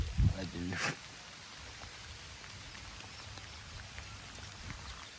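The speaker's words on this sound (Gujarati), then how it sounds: "વરસાદ પડે છે વરસાદમાં મોજ કરો" Steady rain hisses evenly throughout at a farmhouse, moderately loud and close, after a brief burst of voices and a knock at the start.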